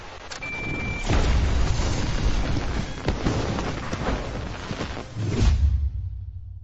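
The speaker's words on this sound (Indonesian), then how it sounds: "kelompok Chang pun langsung meledakkan bom yang telah mereka pasang" A bomb explodes in a film scene set at New Year, a heavy, rumbling blast that swells and rolls on for several seconds with a second surge near the end before fading out.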